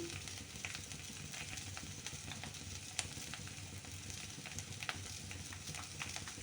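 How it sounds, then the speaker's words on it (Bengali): Spiced mixture sautéing in a pan, a steady close sizzle with scattered small crackles and pops running throughout, no talking. "এটা ভালো করে কষিয়ে নিতে হবে"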